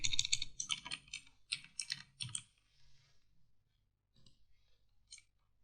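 Caption text typed on a computer keyboard, a quick burst of close, crisp key clicks for about two seconds, then quieter scattered single taps after a pause.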